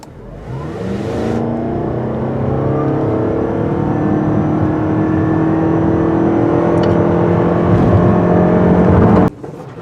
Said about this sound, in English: Let's give it a 0 to 60 run.